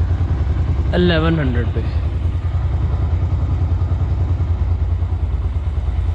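A motorcycle engine idles steadily while its carburetor idle is being adjusted, a low continuous rumble running throughout, with a brief spoken phrase near the start.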